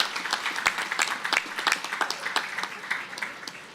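Audience applause at a Jacksonville Armada FC soccer team announcement, a steady patter of many hands clapping with a dense, crackling texture that holds for several seconds, no voices over it.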